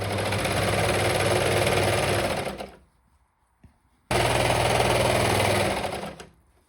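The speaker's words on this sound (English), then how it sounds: "Then I keep sewing." A sewing machine stitches stretch fabric for a boxer brief in two steady runs of about two and a half seconds each, loud and close, with a quiet gap and a faint click between the bursts.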